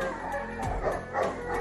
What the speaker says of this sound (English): the noise of dogs barking and howling